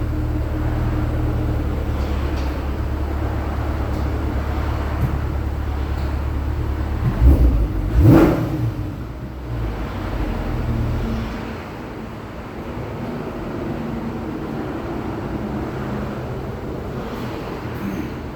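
A 2025 Corvette Stingray rolls onto a drive-on lift. A steady low rumble runs throughout, with a brief louder clunk and squeal partway through before the drone settles again.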